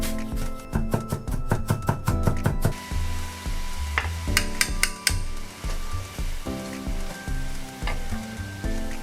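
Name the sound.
sautéing minced ginger and aromatics in a pan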